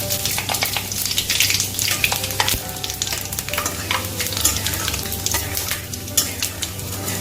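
Dried red chillies and five-spice seeds sizzle and crackle steadily in hot oil in a wok while being stirred, a dense, close frying hiss with scraping clinks throughout, no voices.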